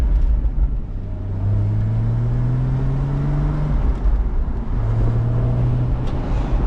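A 2013 Porsche Boxster with a manual gearbox and 106,000 miles drives along, its engine droning close inside the cabin with a rising whine that climbs through a gear, drops, then climbs again, without talk.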